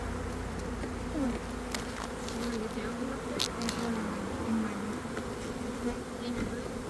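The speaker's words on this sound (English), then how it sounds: "Got a couple bees on me." Honeybees buzz close around a beekeeper splitting a hive, a constant droning hum with individual bees swooping past, and no talk.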